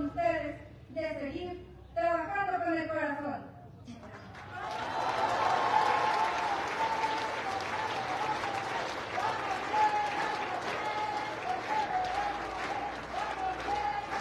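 Applause swells from a large audience at the second activity report of the DIF Tepeaca municipal system president, following a few seconds of speech, then holds steady and loud for about ten seconds.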